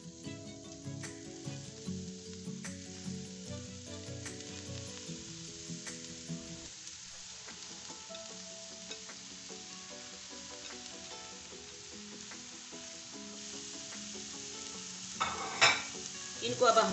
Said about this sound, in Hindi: इनको अब हम अच्छी तरह फ्राई करेंगे।